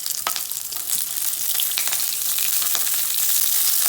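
Garlic scapes sizzling in hot oil in a pan over high heat, a loud, continuous hiss with scattered sharp pops and crackles, close up and alone without talk.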